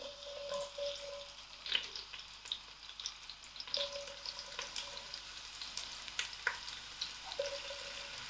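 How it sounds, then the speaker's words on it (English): Onions frying in hot oil in a pot over medium heat for a lamb biryani, a moderate steady sizzle with occasional crackles and pops, close and without talk. "Now I'm going to add my onions to the oil."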